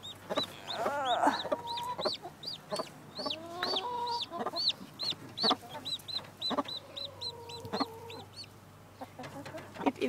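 Newly hatched baby chicks peep rapidly and repeatedly in high, thin chirps, close by, with occasional lower clucks mixed in.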